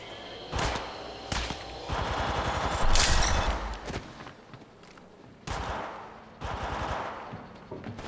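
Rapid automatic gunfire from the video game Apex Legends, rattling out in several loud bursts with short gaps between them, close and punchy, with no speech.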